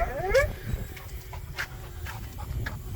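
Nervous dogs pant and whine close by, with a rising whimper at the start and then quick, soft panting breaths in a quiet setting.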